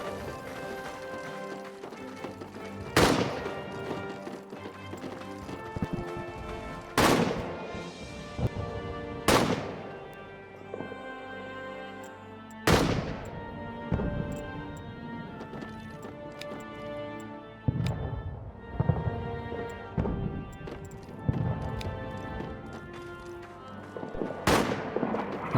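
Gunshots ring out in the WWI trench video game All Quiet in the Trenches: loud, sharp single cracks spaced several seconds apart over a steady, dense battlefield rumble, with no talking.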